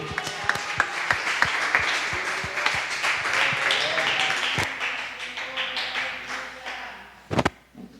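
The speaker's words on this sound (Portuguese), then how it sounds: "Aplauda o nome do Senhor." A church congregation at a revival service applauds, with rhythmic, sustained clapping that swells through most of the stretch, then fades before a loud burst of taps near the end. Faint voices sit beneath the applause.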